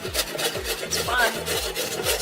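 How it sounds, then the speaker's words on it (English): Carrots are grated by hand against a grater in a steady rhythm of rasping strokes, close and fairly loud, with no talking over it. "Grate all the carrots."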